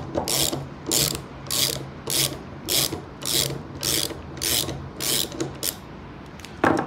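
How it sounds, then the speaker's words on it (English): A ratchet loosens the center nut on the shaft of a two-way paddle handle, giving about nine evenly spaced bursts of close, crisp ratcheting clicks with brief pauses between strokes. No one speaks. "We need to loosen this center nut about a quarter to a halfway up the shaft."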